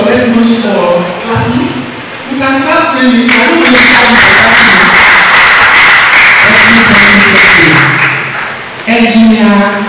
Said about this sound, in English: You can clap freely.